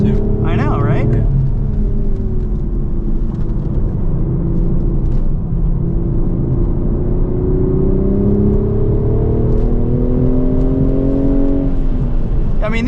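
A 2025 BMW Z4 M40i with its B58 engine and six-speed manual drones steadily at high load on a track, top down, with rising and falling engine tone throughout and voices talking over it.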